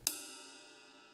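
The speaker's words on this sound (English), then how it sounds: "And lastly, my ride cymbal. A nice ping." A single strike on a medium-heavy ride cymbal gives a clear bright ping, close and isolated, followed by a smooth shimmering wash that fades quickly.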